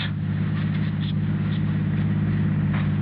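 Steady low rumble of a car engine running as a radio drama sound effect, an even mechanical drone with faint scraping texture and no one speaking.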